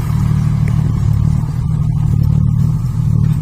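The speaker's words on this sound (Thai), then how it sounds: "รถไถมาดันแล้วครับ" A tractor pushes and levels the track at an off-road pit-edge event, its engine a loud, close, steady low rumble that runs throughout without talk.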